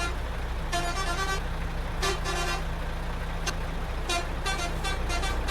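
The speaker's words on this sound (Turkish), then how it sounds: "Şöyle de bir kornamızı çalalım." Several bus horn blasts from a MAN Lion's Coach in Euro Truck Simulator 2 sound in short bursts, some single and some doubled, over a constant low engine hum.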